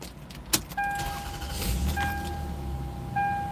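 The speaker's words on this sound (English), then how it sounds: "Had to start my car because we're getting kind of hot" A car engine turns over and catches into a steady idle, accompanied by brief key and door clicks and a tonal chime that repeats a few times.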